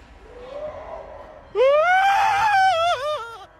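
A terrified man lets out a long, loud, wavering scream in a scary video, rising sharply and holding for nearly two seconds after a quieter lead-in.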